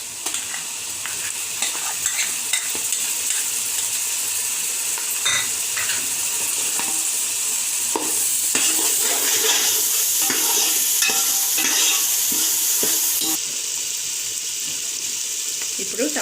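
Onion and green chilli paste sizzles in a pan for a prawn biryani, with steady frying hiss and repeated scraping stirs that run loud and close for the whole stretch and no talk over them.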